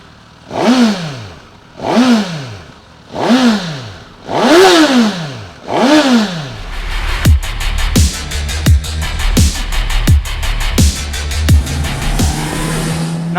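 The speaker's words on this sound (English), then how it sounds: "why not I give you a quick sound sample of what this Suzuki Katana sounds like." Suzuki Katana inline-four motorcycle engine, 2022 model, revved in five sharp rising-and-falling blips, then settling into a loud, close, rapid rhythmic idle with repeated throttle pulses.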